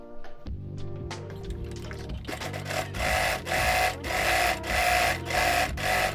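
Sewing machine running a straight stitch along the edge of a skullcap (takiya), starting with a few light clicks, then a steady loud mechanical whir broken by short rhythmic pauses.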